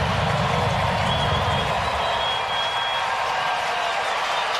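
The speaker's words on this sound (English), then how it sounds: "Crowd making as much noise as we've maybe heard them make all series." A baseball stadium crowd roars loudly and steadily at a Brewers versus Cardinals game, a dense, continuous wall of cheering and noise filling the whole stretch.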